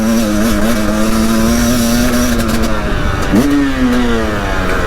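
A Husqvarna TE300i motorcycle engine hums steadily close by, its pitch wavering as the throttle is blipped, with a sharp rev rising near the end.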